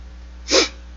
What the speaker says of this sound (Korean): 재채기가 올라가네요